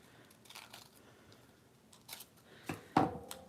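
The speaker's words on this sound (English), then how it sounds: "I just need to cut it lengthwise to size now." Scissors cutting paper lengthwise to size: a few soft, close snips, then sharper, louder cuts near the end, heard in an otherwise quiet room.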